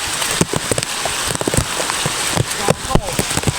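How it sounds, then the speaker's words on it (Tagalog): Rain pours onto a rice field, with dense, steady patter and scattered sharper drops hitting close by. A few brief voices can be heard under the downpour. "So ayun, nabasa na po kami, umuulan na"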